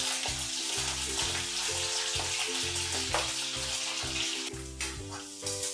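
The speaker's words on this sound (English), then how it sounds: "once the butter melts, I'm going to add a teaspoon of ginger paste, a teaspoon of garlic paste," Ginger paste and garlic paste fry in melted butter, giving a continuous sizzle that runs under rhythmic background music the whole time.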